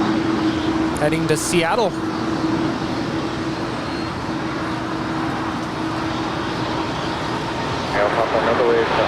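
A DHL Boeing 777 cargo jet operated by Aerologic taxiing at Los Angeles International Airport, a steady distant engine drone under traffic noise while a person talks over it.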